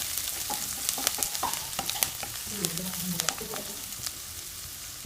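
Chopped ginger, garlic and green chili sautéing in hot coconut oil for a jackfruit and jackfruit-seed curry, with a steady sizzle and crackle and scattered sharp clicks of a spoon stirring against the pan.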